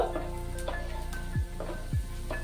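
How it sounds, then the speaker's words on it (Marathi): Finely chopped garlic frying briefly in hot oil, a steady close sizzle with a few soft scrapes and stirs in the pan. "त्याचा फक्त कच्चटपणा जाईल लसणाचा, म्हणून थोडासा तो भाजून घेते तेलावर."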